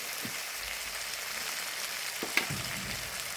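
Liver roast sizzling in a frying pan as pepper powder is added, a steady close hiss of frying broken by a few faint stirring clicks, with no voices.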